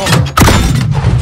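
A grenade blast in the Call of Duty Modern Warfare campaign's embassy mission: one loud, close, sudden burst with a shattering, thudding edge, rising out of the combat noise and trailing off into a rumbling tail.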